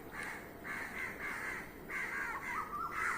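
Several crows cawing in repeated harsh bursts, one after another, moderately distant against a soft background hiss.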